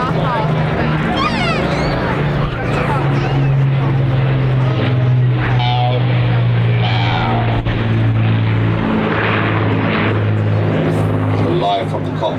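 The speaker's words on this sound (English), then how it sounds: "Here's the Lancaster rolling out now." An Avro Lancaster bomber's propeller engines drone steadily as it rolls out at an airshow, a loud continuous low hum throughout, with a commentator's voice over it.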